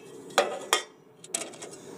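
Metal parts of a Trangia camping stove set handled up close, a few sharp clanks and light metallic clinks separated by quiet pauses.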